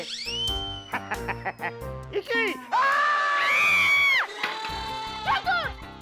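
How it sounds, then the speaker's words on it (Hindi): A loud, sustained shout or scream from an animated children's comedy episode rises over busy cartoon voices and effects, lasting about a second and a half in the middle and surrounded by shorter excited cries. "तुम चिल्ला क्यों रहा है?"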